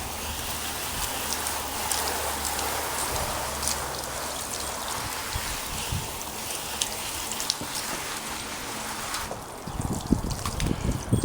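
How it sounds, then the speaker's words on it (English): Water from a hose pipe sprays steadily onto plastic venetian blinds, a dense hissing patter that continues throughout, close and fairly loud, with a louder splashing burst near the end. "And then give it another rinse with a hose pipe."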